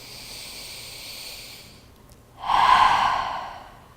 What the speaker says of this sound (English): Let's have a nice big inhale. And a sigh out.